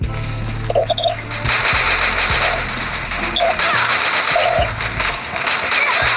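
Rapid gunfire from a video game shooter, bursts of sharp cracks and short volleys repeating through the whole stretch over a busy game soundscape, with no one talking.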